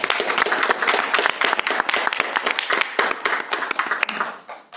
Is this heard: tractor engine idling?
no